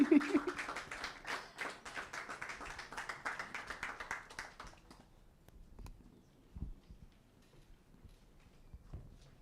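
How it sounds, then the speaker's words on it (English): Audience applause at a launch ceremony for the Highlife centenary celebration, greeting the head of a university music department: dense, loud clapping from a crowd for about five seconds, then thinning to scattered claps and room noise. "A round of applause for him, please."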